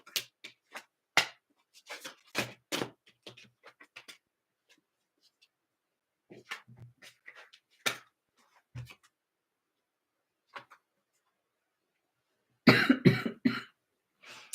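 A burst of harsh coughing near the end, preceded by scattered soft clicks, taps and quiet movement sounds.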